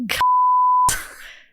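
A single loud, steady, pure-tone censorship beep lasts about two-thirds of a second, bleeping out speech in a podcast conversation, with clipped speech sounds on either side of it.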